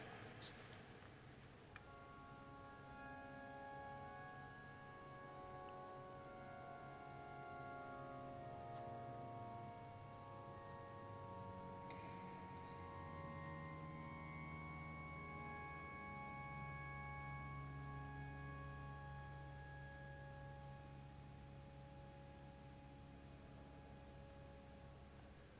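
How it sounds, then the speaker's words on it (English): The echo dulciana stop of the York Minster pipe organ plays soft, sustained chords in a large reverberant cathedral, first with the solo box open and then closed. The held notes are faint and change slowly over about 25 seconds, with no talking. "here's the echo dulciana, firstly with the solo box open"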